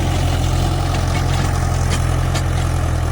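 A tractor pulling a rotavator through a wet field runs a loud, steady, labouring engine drone throughout, with no clear change in pitch.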